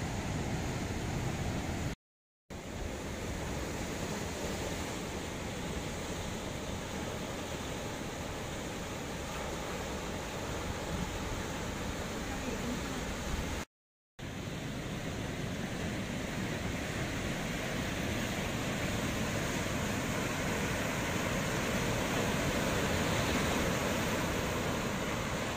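Large ocean waves at Gunung Kumbang beach in Ngliyep roar as a continuous, loud, broadband wash of surf, briefly cut by two short gaps, with no voices.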